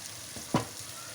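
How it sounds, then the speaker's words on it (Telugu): A single brief stir of a capsicum and potato fry in a pan after coriander powder, garam masala and coconut powder go in, one soft scrape over a faint sizzle. "ఇవన్నీ వేసుకొని ఒకసారి కలుపుకోవాలి"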